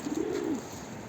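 A single soft, close pigeon coo from a neglected pet bird, one rounded low call lasting about half a second and then fading, with no talking over it.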